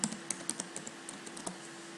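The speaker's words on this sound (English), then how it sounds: "type the heading of your topic" Keys clatter on a computer keyboard in a burst of quick, uneven taps, fairly close and quiet, while a heading is entered in a word processor; no one speaks.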